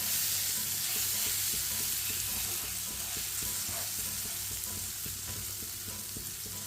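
Continuous sizzling of poppy seed halwa with dry fruits, raisins and cut coconut being stirred in a frying pan, with steady spoon scrapes at a close, even level.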